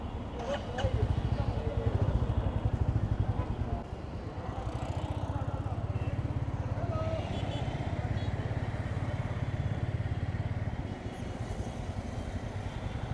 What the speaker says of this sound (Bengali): বাংলাদেশের রাস্তায় চালাচ্ছি রয়্যাল এনফিল্ড বুলেট